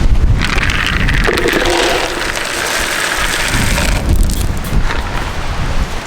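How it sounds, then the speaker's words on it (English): Strong wind roars across an open farm, buffeting the microphone with a loud continuous rumble and gusting hiss throughout. "It's very windy today."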